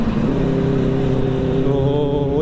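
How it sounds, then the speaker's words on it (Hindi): A 600cc inline-four superbike engine revs hard and close, a loud, sustained high-pitched wail that climbs in pitch near the end, with no talking over it. "बहुत खतरनाक साउंड है इसका भी भाई, 600 cc में इनलाइन फोर"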